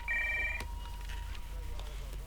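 A telephone rings with a short electronic trill at the start of a call, then a quiet low hum remains, with no speech.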